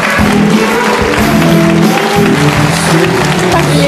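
A studio audience claps warmly to welcome writer Li Ao onto a television talk show stage, a dense, loud and continuous applause filling the whole span with no pause.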